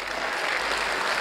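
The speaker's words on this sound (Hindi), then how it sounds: "अगर पसंद आया तो सिर्फ शादीशुदा लोग ताली बजाएं पहले" An audience at a comedy show claps, a dense, even wash of applause from a large crowd, loud and sustained throughout with no voices standing out.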